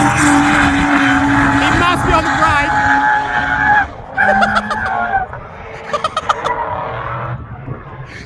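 A 600+hp Barra-engined drift car slides sideways on a track, engine revving high and wavering with tyre squeal, loud at first then fading and surging as it passes, with voices talking over it.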